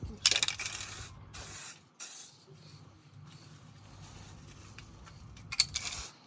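Rattle-can spray paint hissing in short bursts onto a Harley Benton DIY guitar kit body, loud bursts near the start and end with quieter spraying between, under faint background voices.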